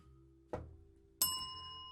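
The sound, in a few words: bell being hit in a tavern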